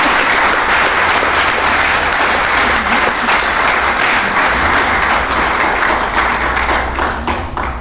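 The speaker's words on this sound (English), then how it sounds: "I'd like for everyone to give a big round of applause." A large crowd at an Ivy Tech honor society gathering gives a loud, sustained round of applause, with dense clapping and a few thumps that ease off slightly at the end.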